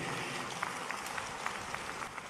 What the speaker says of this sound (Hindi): तालियां बजाकर माननीय मुख्यमंत्री जी का अभिनंदन करें